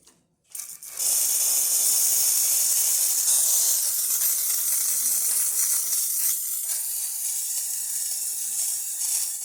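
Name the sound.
Lelit MaraX espresso machine steam wand hissing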